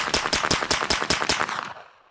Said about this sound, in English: right here we have our suppressor, and we're gonna go ahead and run a full magazine through it